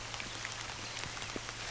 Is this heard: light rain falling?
yes